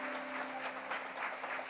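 Church congregation at a winter conference applauding in praise as a pastor is called forward: dense, continuous clapping from many people with a faint sustained tone underneath, steady and moderately distant.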